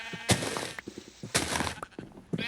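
Minecraft sheep bleat repeatedly in short, wavering cries, several loud calls close by, mixed with soft game thuds and footsteps.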